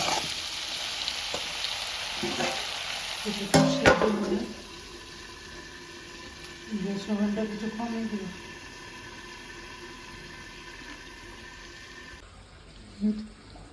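Curry sizzles and bubbles in a pan after water is added, with bursts of hissing and clattering stirring against a steady background hum.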